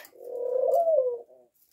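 A ringneck dove coos inside a small cat cage converted for doves: one close, soft, rolling coo swelling and fading, followed by a short fainter note, with no talking.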